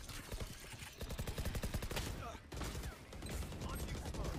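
Rapid gunfire in Valorant, bursts of sharp repeated shots crackling close and loud, with a brief break before the firing resumes.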